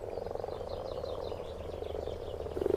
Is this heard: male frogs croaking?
yes